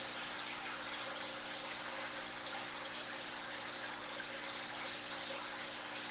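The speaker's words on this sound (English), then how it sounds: "they're putting some water out in that 180. It's kind of like a little waterfall." Water trickles from hang-on-back aquarium filters into a 180 tank like a small waterfall, a steady, faint continuous splash with a low hum beneath and no talking.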